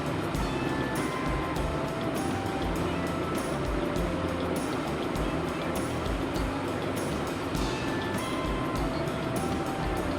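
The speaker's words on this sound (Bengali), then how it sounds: "তো সুন্দর করে ভেজে নিচ্ছি আমি," Soybean chunks with egg sizzle steadily in a frying pan, a loud, dense, continuous hiss with no pauses.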